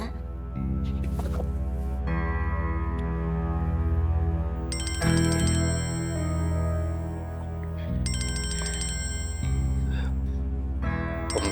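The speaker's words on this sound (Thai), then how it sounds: "รับโทรศัพท์ก่อนนะครับ" Telephone ringtone in a Thai TV drama plays a loud, repeating electronic melody close by, with phrases starting and stopping in a regular pattern.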